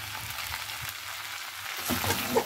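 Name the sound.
sautéing fish heads, rice and spices in a pan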